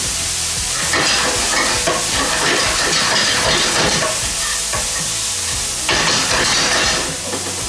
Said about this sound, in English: It's got sesame seed oil, it's got ginger, it's got garlic, all just frying up nice and translucent.